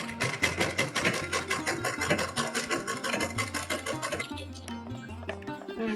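Sewing machine stitching lace onto a small Laddu Gopal dress, running in fast, steady rhythmic bursts close up, then slowing and pausing near the end.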